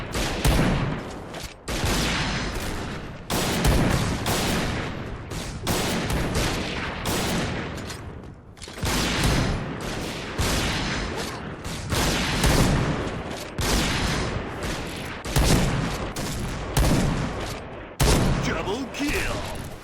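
Sniper-mode gunfire in the Point Blank shooter game, with loud repeated shots in irregular bursts and rapid volleys crackling throughout, a voice speaking between and over them.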